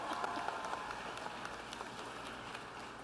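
Steady applause from a crowd, many hands clapping continuously at a moderate distance, with no one speaking over it.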